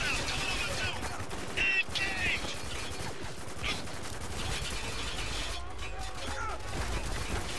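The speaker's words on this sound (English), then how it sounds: "There's still a guy shooting at them from the side." Gunfire in the third-person shooter Spec Ops: The Line, a continuous loud rattle of shots and impacts in a chaotic firefight, with someone talking over the noise.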